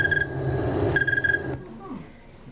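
A cold tree cricket trills in a slower, steady pulsing chirp, with a couple of short bursts over a low background hum before it cuts off into quiet.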